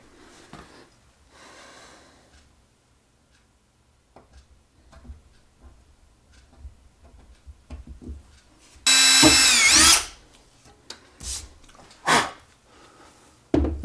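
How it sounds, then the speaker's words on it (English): A power drill fitted with a bit, used on an N scale model railroad track project, gives one loud whirring burst of about a second after a quiet stretch, followed by a few short clatters. "So now I have to find a drill bit."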